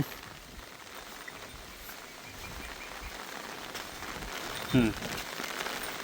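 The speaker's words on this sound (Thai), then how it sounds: "ฝนยังตกอยู่ นะ จ๊ะ" Rain falling steadily during the harvest season in rural Thailand, a soft continuous hiss of drops on surfaces with a brief louder patter near the end, heard alone at moderate distance.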